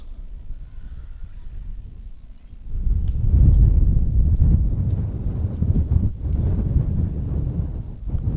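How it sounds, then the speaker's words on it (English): Wind gusts across the microphone at a softball field on a windy afternoon beside Washington Street, a low rumbling buffet that swells and stays loud after a quieter start, with no talk. "Windy afternoon, as is typical here alongside Washington Street."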